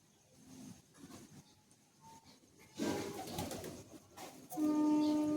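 Madrasi high-flying pigeons coo softly in low, throaty bursts, joined by louder rustling and a sustained tonal hum toward the end.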